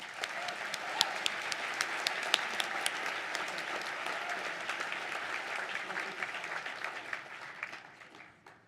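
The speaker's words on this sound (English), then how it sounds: "Let's give them one more round of applause." A gala audience celebrating grant-winning entrepreneurs breaks into a sustained round of applause, a dense, steady wash of many hands with a few sharper claps standing out, holding evenly before tapering off at the end.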